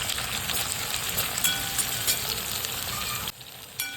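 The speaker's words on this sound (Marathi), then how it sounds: "कांदा इथे फ्राय करून घ्या." Onion frying in a pan for a pea pulao, a steady bright sizzle close by that runs continuously and then drops off abruptly near the end.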